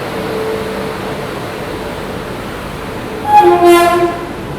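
The Swarn Nagri Express rolling out of Jaipur Junction, a steady low rumble of the moving train, then a loud sustained horn blast near the end.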